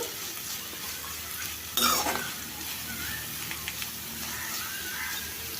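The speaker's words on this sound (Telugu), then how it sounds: "ఈ రొయ్యల్ని నూనెలో ఒక రెండు నిమిషాలు ఫ్రై చేసుకోవాలండి" Dried shrimp fry in hot oil with a soft, steady sizzle, broken by one sharp clink of a utensil against the pan and a few faint stirring scrapes.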